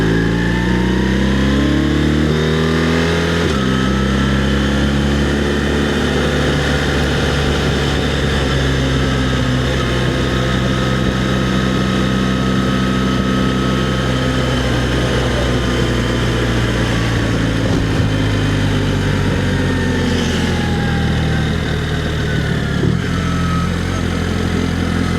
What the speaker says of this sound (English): And even in manual it very nicely rev matches when you shift down.